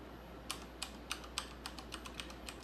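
Keystrokes on a Thermaltake X1 mechanical keyboard with Cherry MX Silver switches, about ten crisp, close clicks tapped out at a slightly uneven pace over a quiet room hum.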